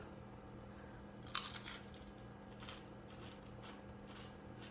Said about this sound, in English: I am going to taste it for you.